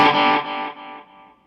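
Electric guitar run through a VST with exaggerated delay and reverb: a bright, loud chord decaying in repeated echoes that fade step by step into a reverberant tail.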